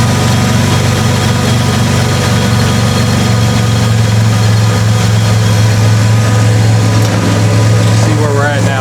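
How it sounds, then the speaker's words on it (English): A carbureted Ford Bullnose truck engine idles steadily and slightly high, a constant low rumble that stays close and loud throughout the clip. "So we are idling just a little bit high."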